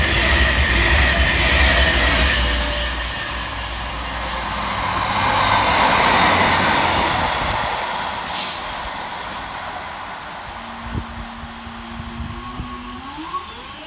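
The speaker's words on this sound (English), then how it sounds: "390-119 crosses with 156-427, running 16 minutes late with 1H06 for Avanti West Coast from London Euston through to Manchester Piccadilly" Avanti West Coast Class 390 Pendolino crossing a Northern Class 156 diesel unit at Heaton Chapel, a loud sustained rumble and rush of the passing trains, swelling and fading, with a brief high squeal and a rising horn-like tone near the end.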